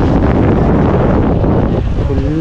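Strong wind buffets the microphone at the seashore of Dhanushkodi, India's southern tip, a loud continuous roar with no voices heard.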